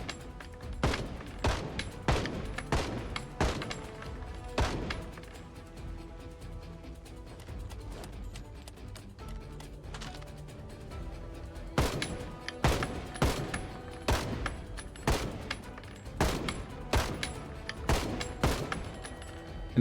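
Guns shooting zombies in the game Project Zomboid: sharp, loud single shots in irregular clusters, several quick bursts separated by quieter gaps, no talking.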